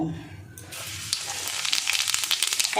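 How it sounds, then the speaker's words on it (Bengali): Whole cumin seeds crackle and sizzle as they hit hot oil for a Bengali cauliflower and parshe fish dish, a dense bright fry that erupts suddenly after a quiet start and keeps popping steadily close by. "দেখুন তেলটা গরম হয়ে গেছে। এবার আমি গোটা জিরে ফোড়নে দেব।"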